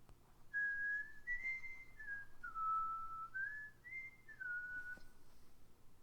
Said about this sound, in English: We soon hear someone whistling a happy tune.